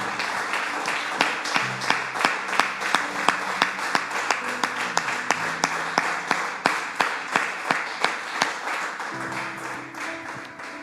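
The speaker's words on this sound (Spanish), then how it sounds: "Le damos un fuerte aplauso al Señor," Congregation applause in a church service: many people clap together in a steady rhythmic beat, loud and close, with faint voices underneath and brief instrumental tones in the background.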